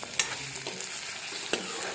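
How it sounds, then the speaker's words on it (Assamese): Onions, ginger and garlic sizzle in oil in a pan while being stirred, a continuous close frying hiss with a few quick scraping knocks of the spoon and no voices. "আদা নহৰু দি পেলাই ভালদৰে মছলাখিনি ভাজি লৈছোঁ।"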